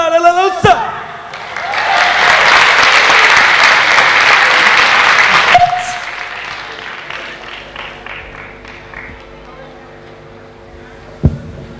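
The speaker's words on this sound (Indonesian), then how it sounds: "saya kira kita harus beri tepuk tangan sekali lagi untuk Marhaban Saman" A community forum audience bursts into loud sustained applause after a sung performance, the clapping swelling and then fading into scattered claps, with singing beforehand and talking afterward.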